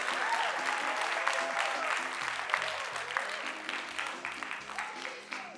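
Audience applause at a corporate service awards ceremony, as a winning restaurant brand is honoured: sustained, dense clapping from a large crowd that stays steady for several seconds and fades slightly toward the end, with no voices over it.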